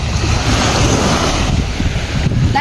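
Seaside waves and wind, a loud steady roar of surf with heavy wind buffeting the microphone, continuous throughout with no voices.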